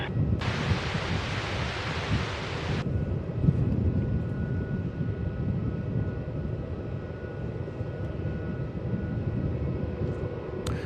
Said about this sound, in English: Qantas 450 for runway 27 cleared for takeoff